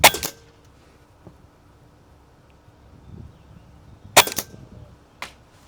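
Two sharp airgun shots fired at a quarter-inch target 65 feet away outdoors, one near the start and another around four seconds later, each a crisp crack with a short ringing tail, plus a faint click between them.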